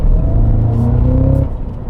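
A Cadillac CT5-V Blackwing rumbles loud and close from inside as it takes a turn fast, the engine note rising in a low droning growl and easing off near the end.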